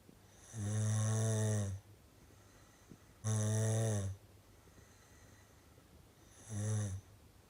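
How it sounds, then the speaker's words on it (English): A person sleeping on their back snores in three loud, drawn-out rasps, each about a second long, separated by quiet breathing pauses. "which resulted in me snoring a bit"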